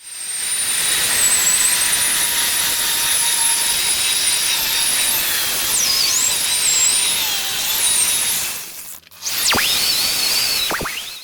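An electric drill fitted with a polishing pad buffs a car headlight, giving a loud, continuous high-pitched whine that holds steady and wavers in pitch, briefly cuts out near the end, then spins back up.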